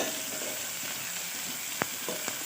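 Onions frying in a pan for mutton curry, a steady, even sizzle throughout, with a couple of brief scraping stirs near the end and no talking.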